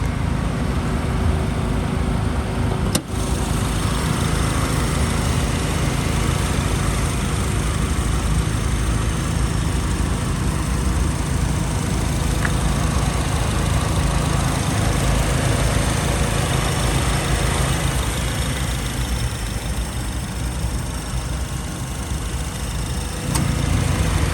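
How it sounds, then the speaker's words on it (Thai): Honda Accord G8 engine idling smoothly and evenly, a continuous close hum with no other sounds over it. "ครื่องยนต์เดินนิ่มเรียบนะครับผม"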